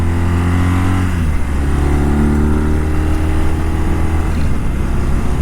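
BMW R1200RT motorcycle from 2009, ridden two up with a passenger on twisty roads, its engine droning loud and steady close by, with the pitch dipping and then rising again as the rider works the throttle, and no voices.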